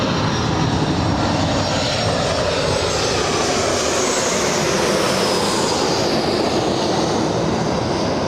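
An airliner arriving overhead at Los Angeles International Airport, a loud sustained jet roar passing close above, with the engine pitch slowly sweeping as it goes by.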